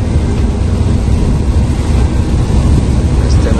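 Strong floodwater surges in a loud, deep, continuous roar, heavy rumbling turbulence filling the whole stretch with no break.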